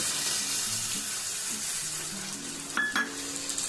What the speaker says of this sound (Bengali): সাথে দিয়ে দিলাম একটু বাটি ধোয়া জল,